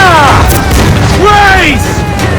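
Ship cannons fire in a naval battle in the video game Assassin's Creed Black Flag, with heavy booms rolling under loud shouted crew voices.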